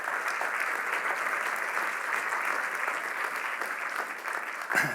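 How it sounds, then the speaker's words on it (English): An audience at a startup pitch night applauds the judges with a steady, even round of clapping from a sizable crowd, moderately loud and continuous, ending with a brief knock near the close. "So let's give them a big round of applause."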